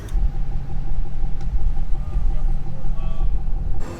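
A car engine idles in drive during a vehicle rescue, a low steady rumble close by with a soft hum, and a voice is heard briefly over it.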